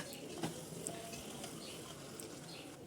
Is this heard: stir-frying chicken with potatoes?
yes